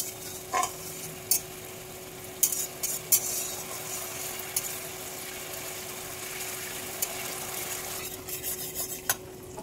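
Spice paste of radhuni bata with turmeric and salt sautés in a pan, giving a soft continuous sizzle broken by irregular scraping clicks and taps of a spatula against the metal.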